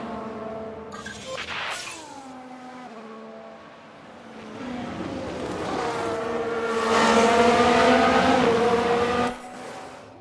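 Race cars from the F1 Manager 22 game circuit, engine notes rising and falling as cars pass at speed, loud and continuous with shifting pitch through the lap.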